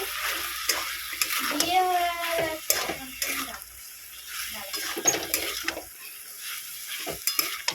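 Prawn curry being sautéed in a pan, an intermittent sizzle with stirring scrapes and a few clatters, moderately quiet, with a voice talking briefly in places.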